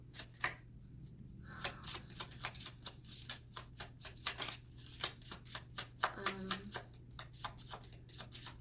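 A deck of oracle cards is shuffled by hand in quick, close riffling bursts of crisp papery slaps, repeating steadily throughout with a faint hum beneath and no talk.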